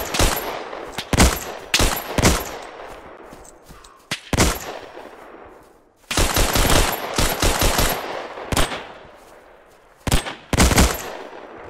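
Heavy automatic fire from a .30 cal machine gun in the WWII shooter Hell Let Loose, loud bursts of rapid shots in clusters with gaps and decaying echoes between them.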